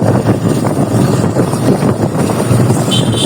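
A group of five motorbikes riding along a road toward Sajek in rainy weather: a loud, steady rumble of engine and wind buffeting the rider's microphone, with no voices.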